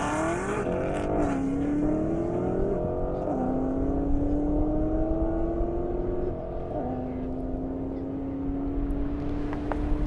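A fast Corvette race car tears down an airstrip, its engine howling up through the gears in repeated rising sweeps with brief dips at each shift, loud and fairly close with crowd noise behind.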